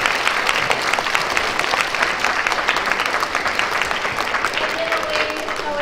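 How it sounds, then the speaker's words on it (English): A school assembly audience of young students applauds a marching band, close, dense clapping that holds steady for the whole stretch. "Can you give them a quick round of applause?"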